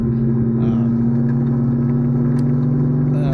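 A ChampCar endurance race car at the Indianapolis Brickyard GP holds a loud, steady engine drone from inside the car, with a constant low hum and a few faint ticks and brief higher noises.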